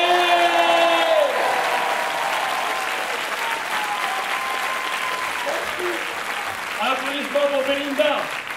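An audience breaks into sustained applause for Belinda at a live event, loud and continuous throughout, with cheering voices and tonal whoops rising over the clapping.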